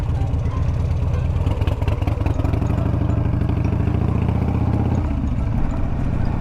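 A motorcycle on stock setup rides toward a gas station, its engine producing a loud, steady mid-pitched drone with rattling texture, shifting tone near the end; no talking.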